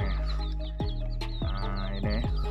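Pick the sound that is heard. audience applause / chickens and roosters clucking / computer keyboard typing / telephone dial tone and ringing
chickens and roosters clucking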